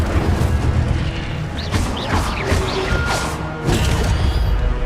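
The Incendio fire spell in Hogwarts Legacy lets out loud, rumbling booms and crackling blasts that follow one another, with whooshing bursts layered over a heavy low roar.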